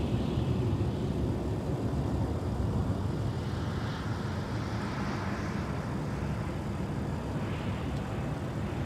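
An American Airlines Boeing 737-800 departs from Minneapolis airport, a steady broad jet roar at moderate distance with a faint rising whine, no voices over it.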